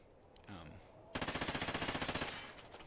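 Automatic gun in Call of Duty firing a sustained burst with the trigger held, a rapid even rattle of shots after a brief murmur of voice.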